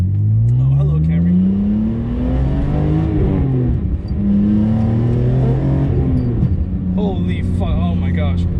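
BMW E46 M3 engine pulling through steady acceleration on a street drive, a loud continuous drone whose pitch climbs and settles, with someone talking over it throughout.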